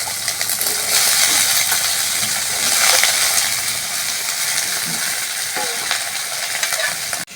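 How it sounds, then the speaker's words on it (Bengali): Brinjal (eggplant) slices frying in a little oil give a loud, steady sizzle throughout, with occasional scrapes and stirring clicks. "বেগুনটা জড়জড়া করে ভাজা করবো"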